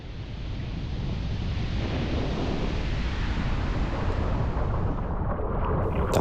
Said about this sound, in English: Dodged a couple waves on the way out.